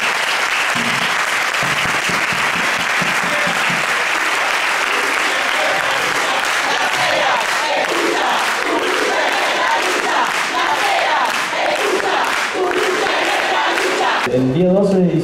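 Sustained loud applause and cheering from an audience at a leftist political programme gathering, steady for about fourteen seconds before a voice begins at the end.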